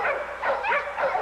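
A dog in a kennel yard gives three short, close barks, evenly spaced, with a slightly yipping, whiny edge to each one.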